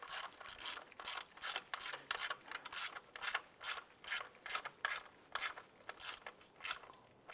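Ratchet wrench tightening an intake manifold screw on a 2011-2019 Ford Fiesta, a steady run of about twenty quick, even clicking strokes close up, with no talk.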